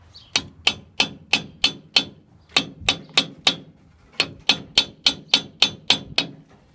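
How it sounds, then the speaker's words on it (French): A small hammer taps metal in quick, even strikes while setting ignition timing on an MBK 51 moped engine, about eighteen sharp knocks in three runs separated by short pauses, close and clear. "Je vais prendre mon petit marteau gentiment."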